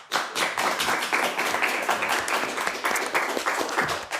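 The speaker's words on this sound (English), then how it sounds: "Let's have a round of applause for both teams." Quiz show audience applauding both teams at the end of a round, brisk steady clapping from a modest crowd carrying on for several seconds with fairly even intensity.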